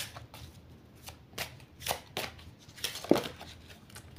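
A deck of tarot cards is shuffled by hand in soft, irregular riffles and taps, close and quiet, with no talking.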